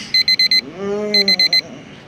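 An alarm clock set for three o'clock beeps in two bursts of four quick, loud, piercing tones, with a short vocal sound between the bursts.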